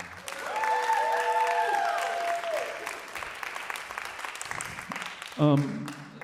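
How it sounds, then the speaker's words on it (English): Audience applause for a pianist at a University of Memphis jazz singers concert, a steady wash of clapping that rises and then tapers, with sustained musical tones sounding over it and a brief louder burst near the end. "give him a round of applause"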